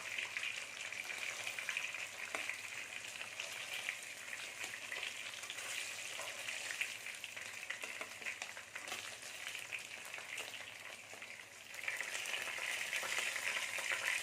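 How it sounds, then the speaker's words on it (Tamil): Murrel fish frying in plenty of hot oil, a continuous dense crackling sizzle heard close up without talk, briefly dipping before resuming. "நான் கொஞ்சம் எண்ணெய் அதிகமாக ஊற்றி வறுத்துருக்கேன்"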